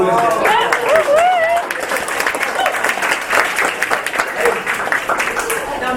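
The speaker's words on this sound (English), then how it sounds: "One more round of applause." An audience gives a round of applause, a sustained wash of clapping from many hands with voices calling out and speaking over it.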